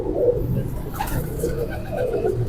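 A pigeon from Sialkot coos softly in low, rolling murmurs, close by but faint, over a steady background hum and faint distant voices.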